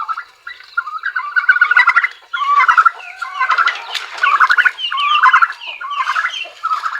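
Repeated turkey gobbling, loud and close, in rapid rattling bursts one after another with short pauses between.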